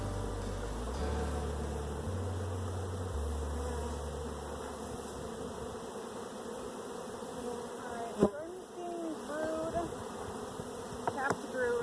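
Bees buzz in a continuous close drone during an open hive inspection, overlaid by a low mechanical hum early on and a few sharp clicks and knocks toward the end.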